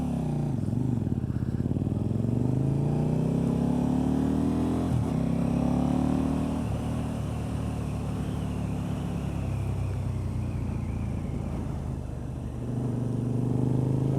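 A KTM RC8 sport motorcycle being ridden hard through corners, its engine droning steadily and loudly close up, the pitch rising and falling as the rider rolls the throttle on and off, with wind noise and no talking.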